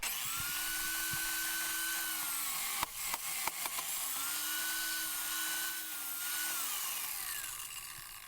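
Power tool cutting an aluminum hydrofoil fuselage makes a faint, high whining buzz whose pitch sags and recovers under load, with a few sharp clicks in the middle and no talk.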